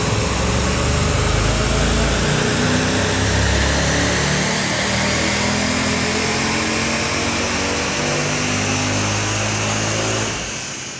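Supercharged Mercedes CL 55 AMG engine held at a loud, steady high-rev roar on a dyno during a power run, running continuously for about ten seconds before easing off at the end; no voices.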